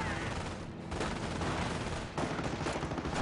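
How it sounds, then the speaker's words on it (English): Sniper rifles firing during a real-time strategy game match, with rapid bursts of gunfire and sharp cracks layered densely over one another, loud and continuous for the whole stretch. "Bjarkey snipers are firing"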